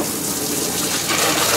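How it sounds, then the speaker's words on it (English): Saltwater washdown hose spraying in a sailboat cockpit, a steady close hiss of gushing water that grows slightly stronger partway through, with no talking. "I'm really glad we got the saltwater washdown hose here in the cockpit."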